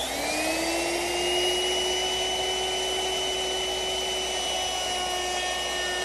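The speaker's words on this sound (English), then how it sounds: "I'll ease the edges using a router with a 1/4 inch rounding over bit." A handheld router fitted with a 1/4 inch round-over bit whines steadily at close range as it eases the edges of wooden side pieces for a rocking horse, its motor pitch climbing briefly at the start and then holding level with no talk.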